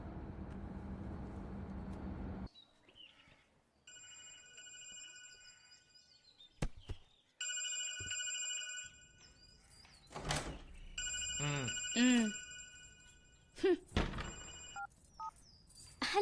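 A telephone ringing during a call in a film scene, repeated electronic ring bursts in a regular pattern after a short stretch of background noise, fairly clear and close.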